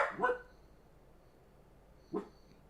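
A dog barks indoors: one sharp bark at the start, then quiet, then a second shorter bark, both moderately close and alone.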